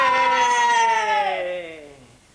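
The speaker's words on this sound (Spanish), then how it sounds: "al gato, al miau" A meow with a downward glide, loud at first and fading over about two seconds, probably a toy or a cat sound played in a children's animal-matching game at home.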